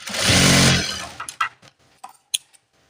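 A sewing machine stitching a nurse uniform top runs in one loud, buzzing burst of about a second, then stops, followed by scattered clicks and taps of handling the fabric.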